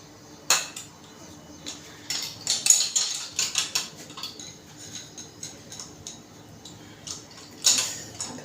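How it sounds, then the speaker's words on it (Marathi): The lid of a pressure cooker is fitted and closed, producing scattered metallic clinks and clicks, some in quick clusters, with a sharp clack near the end, close by and without talk. "आपल्याला झाकण लावून द्यायचं आहे"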